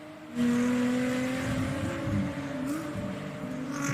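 A Lotus race car drifts through a corner at Monza during a Lotus Cup Europe race. Its engine drones with a wavering pitch that swells after a short quiet start, heard from a moderate distance with no voices.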